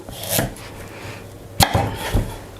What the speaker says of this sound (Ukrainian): Є в мене ось такий чудовий шмат гарбуза. І зараз я відріжу собі потрібну кількість